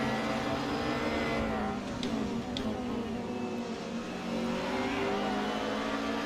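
Touring cars in an Assetto Corsa World Touring Car Cup race at Croft run three wide into turn one, their engines droning and revving together in a dense, steady roar with a couple of sharp gear-change cuts.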